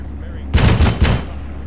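Gunfire in an infantry battle within a video game, three loud, close booming bursts in quick succession over a low steady background rumble.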